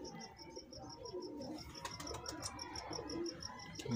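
Jonsiray Teddy pigeons coo softly and repeatedly amid a busy flock, with chirps and brief wing flaps over a steady background murmur.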